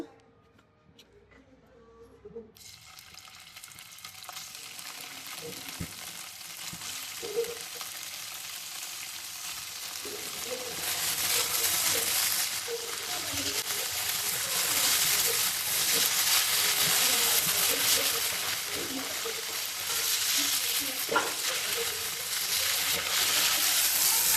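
Paneer cubes fry in a little oil in a pan, with a steady crackling sizzle that starts after a quiet moment and grows louder and denser, continuous and close, with no talking.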